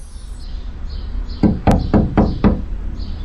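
Five firm knocks strike a door in a steady, evenly spaced series, loud and close, with faint chirping tones in the background.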